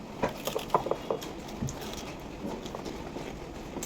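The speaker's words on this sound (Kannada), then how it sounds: "ಇವಾಗ ತುಂಬ ಜೋರಾಗಿ ಮಳೆ ಬರ್ತಿದೆ" Heavy rain falls in a steady, hissing wash, with scattered close patters and drips tapping out more sharply in the first second or so.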